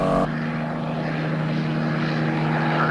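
A helicopter flies near with a steady droning engine roar and a low, throbbing rotor hum, constant and fairly loud throughout, with no talking.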